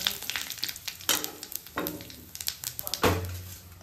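Cumin and bay leaves hit hot oil in a pan, giving bursts of crackling sizzle with several sharp spits and clanks from stirring, fairly close.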